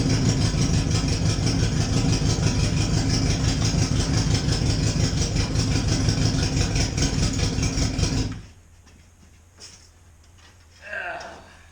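A hot rod lawn mower engine runs with the choke on and the fuel pump disconnected, a loud, steady rumbling chug that abruptly cuts out near the end, followed by a brief quieter rattle and clicks.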